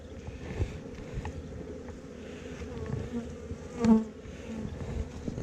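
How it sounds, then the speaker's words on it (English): Steady buzzing of many honeybees close by at a hive weakened by cold, a dense continuous hum with one bee briefly droning louder near the microphone. "There's some bees on this one."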